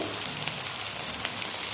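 Steady, close sizzling of tomatoes frying with salt in a hot pan, a continuous crackling hiss with small pops and no voices.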